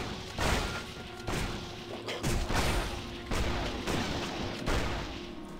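A mimic chest shooting in Torchlight 2 lets off repeated heavy blasts and thuds at a steady uneven rhythm, loud and close against a busy game background.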